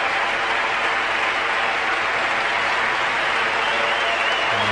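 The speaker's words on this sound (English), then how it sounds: "And an excellent ovation" A cricket crowd at the Sydney Cricket Ground gives sustained, steady applause, a dense even clapping that holds from start to finish with no voices rising above it.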